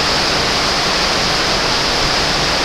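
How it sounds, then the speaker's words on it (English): Heavy rain pours down outside in a steady, loud, unbroken wash of noise with no voices. "it's the fourth or fifth time raining so far today like this"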